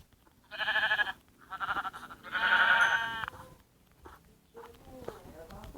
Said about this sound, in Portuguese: Caramba, o tanto de ovelha.